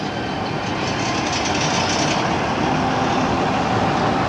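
A Pickfords lorry moves off at the Lincoln steam rally, giving a steady, loud, unbroken rumble of engine and road noise for several seconds, with no talk.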